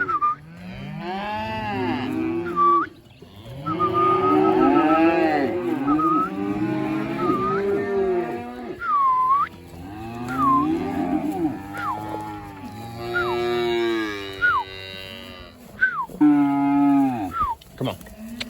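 Calves penned before a sale day on a ranch moo repeatedly, loud and close, with overlapping bawls one after another and short pauses between calls.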